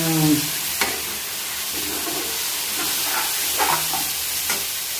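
Cheese chilli fries in a pan with a constant hissing sizzle. A utensil stirs and scrapes now and then with soft knocks, and a faint tonal hum sits underneath.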